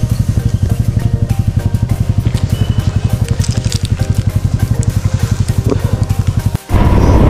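A motorcycle engine chugs close and loud at a fast, even pulsing beat as a ride gets under way, before cutting briefly and giving way to wind noise.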